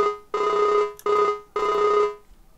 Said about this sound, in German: Jo, bin da mal telefonieren.